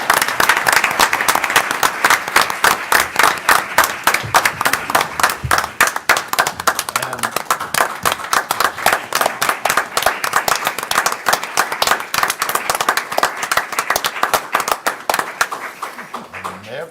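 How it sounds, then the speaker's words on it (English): An audience at a county commission meeting claps for a retiring sheriff, dense and steady applause that carries on for the whole stretch, close and loud, fading slightly at the end. "Now let's clap for him."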